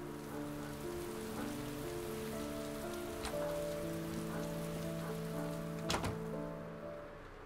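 Soft, steady rainfall in the video game Heavy Rain, heard outdoors by a backyard basketball hoop, quiet and continuous under sustained musical tones, with a couple of brief louder taps.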